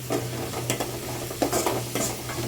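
Onions sautéing in a pan for a sundakkai kuzhambu, a soft continuous sizzle broken by a few quick stirring scrapes, heard up close with no one talking.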